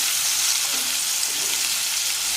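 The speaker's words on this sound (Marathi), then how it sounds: "आता हे कांदा पण लाल रंगावर चांगला परतून घेऊ." Chopped onion frying with already-browned garlic in oil in a pan for Maharashtrian zunka, a steady, loud, close sizzle holding evenly across the whole moment with no voices.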